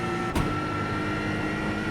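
Car engine in the PMR2 racing video game, a steady mid-pitched engine drone that holds level for about two seconds, with one brief click near the start and no talk.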